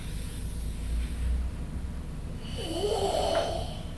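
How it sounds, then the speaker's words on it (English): Hard, forceful breathing during an Isshin Ryu karate kata, heavy and rhythmic like snoring, close up with a rough low rasp and a sharper exhale near the end. "Listen to the breathing rhythm."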